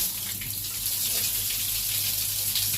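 Water runs steadily from a tap as its spout is cleaned, a constant close hiss with a broad bright rush and no clear break.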